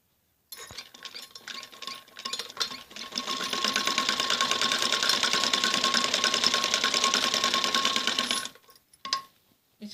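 A sewing machine stitches a kameez jacket neck in one long, steady, loud run of rapid needle strokes, starting after a few short bursts and stopping near the end with a brief final burst.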